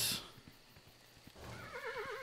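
A horse in the Kingdom New Lands video game gives a short, clear whinny with a wavering pitch near the end, over a faint game soundtrack with soft hoof clops.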